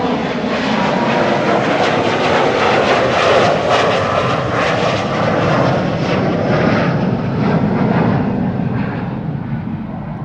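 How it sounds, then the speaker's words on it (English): A Boeing 777 at Amsterdam Schiphol after pushback, engines giving a loud, steady broadband roar that holds level throughout, close by. "Pushback of the triple that arrived here the earliest."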